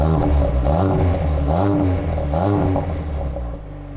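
A 2020 Ford Focus ST 2.3-litre EcoBoost four-cylinder engine revving up and down in loud repeated swells, close by, settling to a lower idle rumble at the end.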